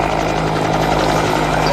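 A search and rescue helicopter runs on the ground at an RAF air show, its rotor and engine making a loud, steady, close drone throughout, with a public-address voice partly blending into the noise.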